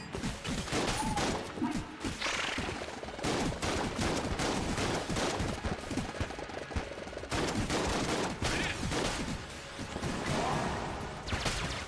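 Dense, loud gunfire from the video game Enter the Gungeon: rapid bursts and overlapping shots in steady volleys, mixed with crashes and whooshes, filling the whole stretch with almost no pause.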